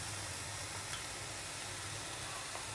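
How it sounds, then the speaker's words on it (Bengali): Soaked polao rice frying in a pot with ginger and garlic paste, a faint, steady low sizzle with soft stirring, no talking. "দিয়ে আমি চালটা ভালোভাবে ভেজে নিব।"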